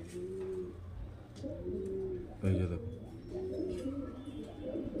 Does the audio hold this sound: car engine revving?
no